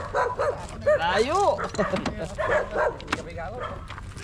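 A big Rottweiler barks and yelps several times at close range, with people talking over and around the barks.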